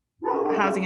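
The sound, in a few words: dog barking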